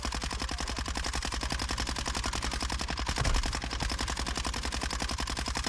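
Submachine gun fire in a first-person shooter video game, a long rapid, evenly spaced stream of punchy shots with a heavier thump midway, close and continuous, no talk.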